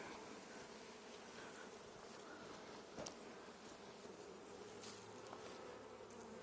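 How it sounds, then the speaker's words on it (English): Honey bees swarm around an open beehive during a split inspection, giving a steady, faint, even hum that stays unbroken throughout with no voices. "forager bees should be flying away."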